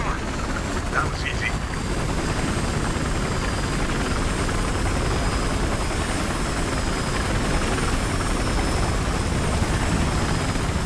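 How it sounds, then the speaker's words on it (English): A helicopter in the video game Battlefield Hardline gives off a steady, loud whirring rotor and engine drone that continues unbroken, with players' voices over it. "You are going to be a chopper chasing us."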